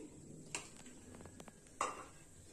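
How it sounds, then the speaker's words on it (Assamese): Fenugreek seeds fry quietly in a pan amid a faint sizzle, with a few sharp metallic scrapes and clinks from stirring. "মই এতিয়া মেথি ভাজিবলৈ লৈছো"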